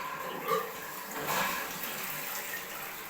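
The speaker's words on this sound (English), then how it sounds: "I'm about to turn the water on here to see if I have any leaks at this point." Water starts running into a toilet cistern just reconnected after plumbing work, a soft steady hiss and gurgle of inflow at low volume that swells briefly, with no talking.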